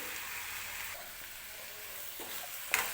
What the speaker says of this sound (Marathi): आता झाकण ठेवून व्यवस्थित वाफेवरती शिजवून घेते थोड्या वेळ ह्याला